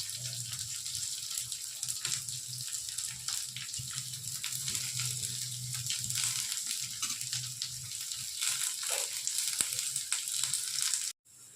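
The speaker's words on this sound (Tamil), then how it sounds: "இப்போ எடுத்து வச்ச வெங்காயத்தை போட்டுக்கிறேன்." Chopped onions drop into hot oil with garlic in a pan for a raw banana stir-fry, producing a bright, continuous sizzle over a low hum that cuts off abruptly at the end.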